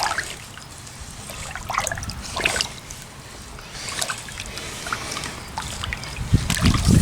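Dirt and clay being stirred in a container of water to separate clay, producing sloshing, trickling and splashing in irregular bursts, fairly close and with no talk.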